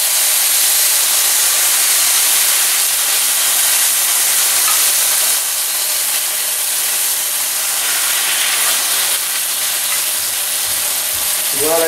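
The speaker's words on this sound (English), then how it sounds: "that's a nice hot skillet. Go ahead and we're just going to brown this meat." Marinated steak browning in a large hot skillet produces a loud, continuous, close sizzle and hiss that stays steady throughout, with a faint stir near the end.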